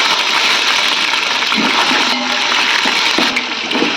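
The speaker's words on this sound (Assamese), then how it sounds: "ইয়াৰ মই পানীখিনি বেলেগকৈ অজৰাই লওঁ।" Water gushes and pours steadily as it is drained off boiling rice for a birthday yakhni pulao, a loud continuous splashing stream lasting throughout.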